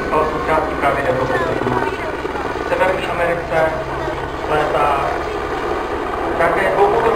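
A Eurocopter AS350 single-engine helicopter flies a demonstration at a European helicopter show, its loud, steady rotor thump and turbine whine pulsing continuously as it passes, with someone commenting over it.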